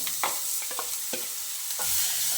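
Onions and curry leaves frying in hot oil in a pan while cooking spinach dal khichdi, a steady broadband sizzle with a few stirring scrapes and clinks, close and continuous with no talk.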